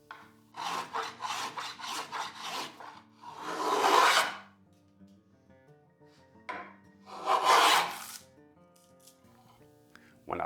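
Spokeshave shaving the wood of a paddle blade from the ends toward the middle, heard as a quick run of short rasping strokes followed by two longer, louder scraping passes with pauses between.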